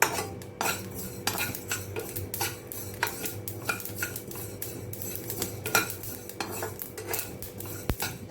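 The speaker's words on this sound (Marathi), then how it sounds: "हे तीळ पटकन भाजले जातात," Sesame seeds roast in a dry pan while a utensil stirs them, giving repeated sharp scraping clinks of metal on the pan in an irregular rhythm over a soft background, with no voices.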